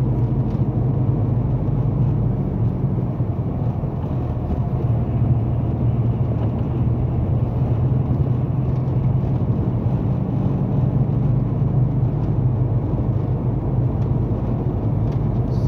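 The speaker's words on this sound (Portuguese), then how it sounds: "Esperar passar os carros todos." Traffic on a rural road in Bahia, heard as a continuous low rumble of engines and tires passing close by.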